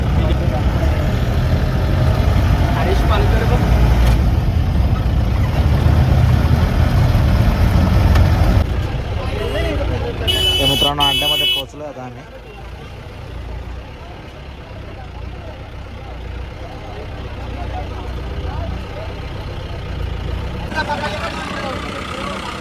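Loud rumbling tempo truck engine runs under talk, then drops away partway through as the truck drives off, leaving quieter background noise and voices.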